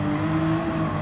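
Race car engine in Gran Turismo 7 on the Nürburgring, a steady, loud high-pitched drone holding at sustained revs for about a second, with no talk over it.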